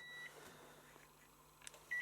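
A household appliance, likely a dishwasher with intensive and extra rinse programs, beeping as it is switched off: a faint high tone early, then a short, clear electronic beep at the end, close, in an otherwise quiet room.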